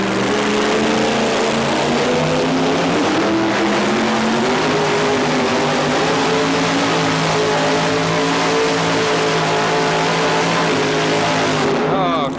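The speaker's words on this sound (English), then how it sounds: "These trucks literally scream down the track." A Ford Aerovan race truck with a V8 engine screams down a drag strip at a 1987 Charlotte event, a loud, steady, sustained engine roar with rising harmonic tones throughout, under faint commentary.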